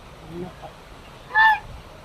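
A single loud goose honk stands out briefly against quiet outdoor background noise.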